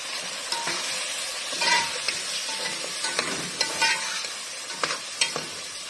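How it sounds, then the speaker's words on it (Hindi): Whole spices (cumin, black pepper, cloves, cinnamon, black cardamom and green chillies) fry in a pan, making a steady sizzle under repeated close stirring and scraping taps. "मसाले को अच्छी तरह भून लेंगे।"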